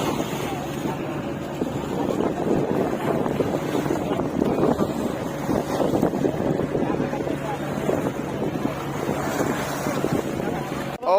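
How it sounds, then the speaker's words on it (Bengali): Speed boat on the Padma River at Mainot Ghat, a continuous engine drone mixed with water rush and heavy wind buffeting the microphone, steady and fairly loud throughout. "এই যে স্পিড বোট দেখা যাচ্ছে বন্ধুরা, স্পিড বোট ভাড়া করেও এখানে ঘোরা যাচ্ছে"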